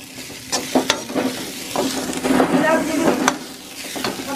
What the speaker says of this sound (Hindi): आगे इसको थोड़ा सा तेल में भूनेंगे,